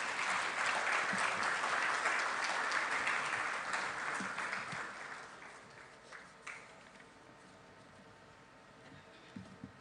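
Audience applause fills an opening ceremony for a world congress in Kigali, Rwanda: dense, loud clapping that gradually thins and fades toward the end, leaving a few scattered claps.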